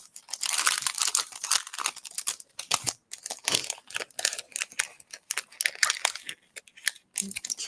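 Packaged die-cut paper pieces from a Cocoa Daisy craft kit are handled close up, giving bursts of crisp plastic-sleeve crinkling and crunching with brief pauses between handfuls.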